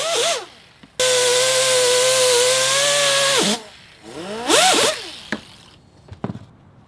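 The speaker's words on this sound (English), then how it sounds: "Using my air grinder. I used 1000 grit sandpaper" Pneumatic air grinder spinning 1000 grit sandpaper against aluminum trim on a Subaru-swapped Porsche, a loud steady whine lasting about two and a half seconds, then a shorter rising burst that winds up and back down.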